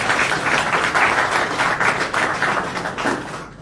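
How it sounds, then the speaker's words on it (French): Audience applause at a book dedication ceremony, a thick steady patter of many hands clapping throughout, fairly close and loud, tapering slightly at the very end. "Je vous demande d'applaudir."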